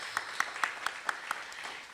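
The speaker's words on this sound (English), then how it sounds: "we want to give him a round of applause and thank him for dedicating his time" A round of applause at a Nunez Community College history lecture series evening honoring an organizer: fairly faint, with a handful of sharp claps standing out at a steady pace over a soft wash of clapping that thins toward the end.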